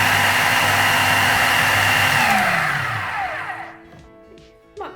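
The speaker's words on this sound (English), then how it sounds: "Lid on and blend for another 10 seconds." A kitchen blender whirs through lentils and mustard, running loud and steady for a few seconds, then winding down with falling pitch until it stops.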